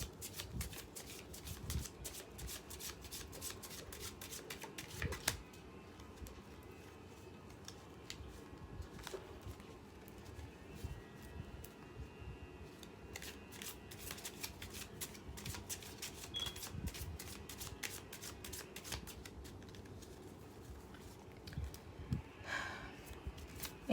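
Romance Angels oracle cards are shuffled continuously for a long stretch, a dense papery riffling and slapping with occasional louder snaps, close and steady, with no talking over it.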